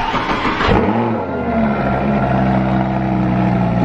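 A Lamborghini engine fires up loud and close outdoors on a cold day, a sharp starter catch followed by a deep, rumbling idle that holds steady, no voices.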